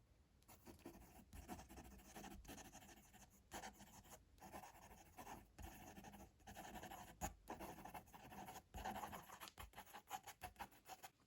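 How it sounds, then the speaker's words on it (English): A fountain pen with a stiff steel nib scratching quickly across paper, a continuous close, quiet rasp of strokes broken by brief pauses between words. "Quick writing."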